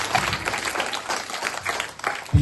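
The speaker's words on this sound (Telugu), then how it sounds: "ఒక్కసారి గట్టిగా చప్పట్లతో వారికి" An audience claps for a club president at a Rotary Club Bonalu festival event, a dense burst of applause with uneven swells, ending in a sharp thump.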